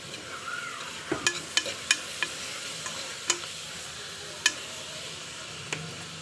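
Chicken fries with onions in a pan for Kerala-style pepper chicken, a low steady sizzle with a series of sharp spatula clicks and taps at irregular intervals, close, with no one speaking.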